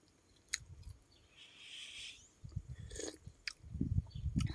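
Soft, close chewing of a hot Lao mushroom curry with yanang leaves and mixed vegetables, irregular moist munching that grows busier toward the end, with a faint high hiss in between.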